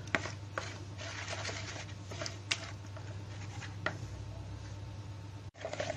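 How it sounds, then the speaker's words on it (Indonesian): Carp bait mixture is stirred with water until liquid, giving soft, close scraping and sloshing strokes with occasional sharper knocks and a brief pause near the end. "Oke, kita aduk hingga benar-benar cair."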